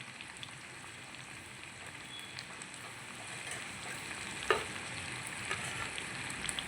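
Chicken curry seasoned with salt and turmeric frying in a pan, a continuous close sizzle with light scraping and a sharp clink around the middle, no talking.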